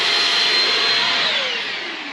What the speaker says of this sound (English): using the vacuum so we're not blowing bugs all over the walls when we're bashing them